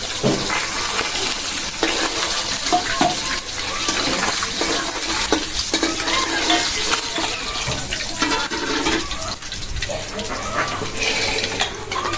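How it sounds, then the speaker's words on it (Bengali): Rohu fish from the Kaliganga river, about 4 kg, frying in a pan, giving a loud, steady, dense sizzle with small crackles that runs unbroken from start to finish. "হয়ে গেল আমার মাছগুলি ভাজা"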